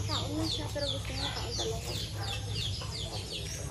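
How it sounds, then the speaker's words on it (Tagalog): Several chickens cluck and chatter continuously in rapid, overlapping calls close by, over a steady low background hum. "Laki ng manok."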